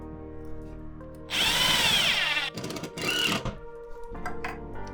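A power drill drives screws while a basic shelf goes up in a new workshop: one long loud whirring burst, then a shorter burst, then a faint brief whir at the end, with no talk.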